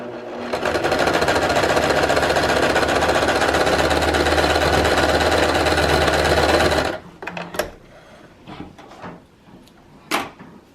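A sewing machine stitches a fabric face mask seam, running loud, fast and continuous for about seven seconds, then stops abruptly, leaving a few scattered clicks and handling knocks.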